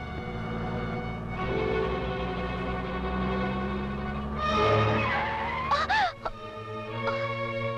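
A car skids to a sudden stop with loud tire squeal sweeping over steady engine noise, the screech peaking near the end before the engine idles on, with no voices over it.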